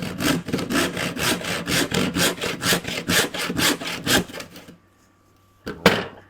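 Hand saw cutting wood held on a bench hook, about fifteen quick, even back-and-forth rasping strokes close up, then a pause and a single sharp knock near the end.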